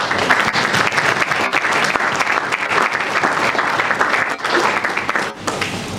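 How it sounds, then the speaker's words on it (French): Seminar audience applauding loudly, a long unbroken stretch of dense clapping lasting about six seconds with a brief dip near the end. "je voudrais vous saluer vivement et vous demander d'applaudir pour vous-même."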